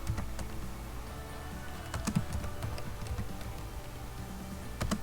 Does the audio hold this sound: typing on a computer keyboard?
yes